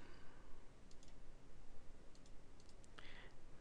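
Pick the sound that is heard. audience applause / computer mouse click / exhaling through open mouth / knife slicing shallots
computer mouse click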